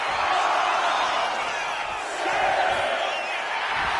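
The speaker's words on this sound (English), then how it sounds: "Taking a moment to fire up this crowd and herself." An arena crowd at a wrestling match cheers and roars in a continuous loud wash of voices, swelling slightly midway.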